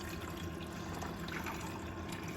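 Warm water trickles steadily into a duck egg incubator, a close, low, continuous pouring and filling sound, quiet and unbroken, with no voices.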